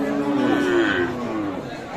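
A cow at the Aftabganj cattle market gives a long, low, close moo lasting about two seconds, with a faint market murmur behind it.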